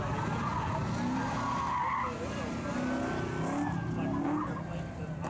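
Tires squeal in drawn-out skids as a 1966 Chevrolet Chevy II street machine with a 6-liter engine brakes hard, the screech rising over a continuous engine roar, with faint commentary underneath.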